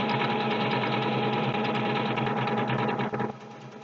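Steady rapid whirring hum of a sewing machine stitching fabric for a Halloween costume, loud and close, running continuously before slowing and stopping near the end.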